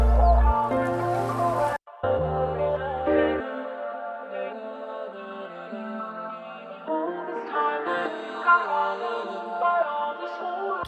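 Music track with a low pass filter on the master, muffled at first after a brief dropout, then the filter eases off so brighter, fuller instrumental tones return toward the end.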